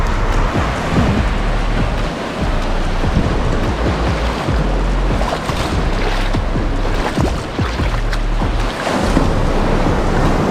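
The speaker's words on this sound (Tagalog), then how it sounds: "Ngayon guys, galit na galit yung alon." Rough ocean surf at a rock formation by a lighthouse in Bolinao, Pangasinan, a loud continuous wash of crashing water with heavy wind buffeting the microphone.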